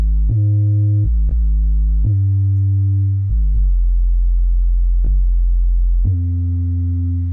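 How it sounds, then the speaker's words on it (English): An 808 bass, kick drum and bass rolled into one, plays a sequence of booming sine-like notes, each hitting with a sharp attack and then sustaining; the notes change pitch every second or so, loud and alone with no talking. "An 808, if you guys remember, it's like a kick drum and a bass all in one."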